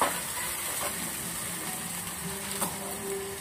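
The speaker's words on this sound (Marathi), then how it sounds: "वाटप आणि कांदा ते छान तेलामध्ये फ्राय झालेला आहे।" Ground masala paste and onion fry in oil for misal, a steady, moderately quiet sizzle with faint bubbling and a soft tap or two, nobody speaking.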